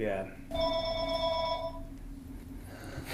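A telephone rings during a podcast recording, a bright, trilling electronic ring lasting about a second, with a voice talking around it.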